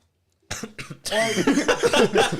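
Two short coughs, then a longer rough coughing fit with several rapid hacks, close and loud.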